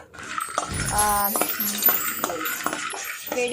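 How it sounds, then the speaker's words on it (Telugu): Chocolate being stirred as it melts in a pot, with close metallic scraping and clinks of a utensil against the pan in short irregular bursts, a voice talking softly underneath. "మా అక్షయ చూడండి గైస్ చాక్లెట్ మెల్ట్ చేస్తుంది"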